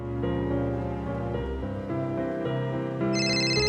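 A mobile phone rings with a melodic tone that repeats in sustained, tuneful notes and shifts pitch partway through, steady and fairly close with no talking.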